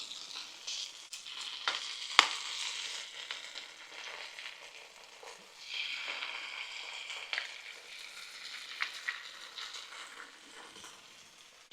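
Eggs cracked into a pan alongside sausages, a soft crackling sizzle with scattered pops and a sharp click of shell, frying quietly and steadily.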